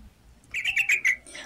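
Birds chirp in a brief burst of quick, bright tweets over quiet background noise.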